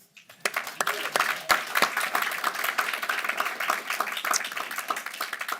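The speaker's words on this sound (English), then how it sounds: "That is worthy of applause." Audience claps at a book launch event, starting abruptly after a brief quiet moment and then settling into steady, moderately loud applause with individual claps audible.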